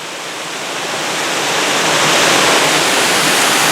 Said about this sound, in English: Look at that, raging waters.